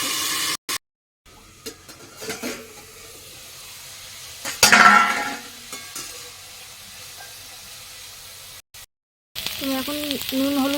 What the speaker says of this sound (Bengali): কড়াইতে একটু তেল দিয়ে দেবো একটু কালো জিরে দিয়ে দেবো উস্তে আর বটবটিটা ছেড়ে দেবো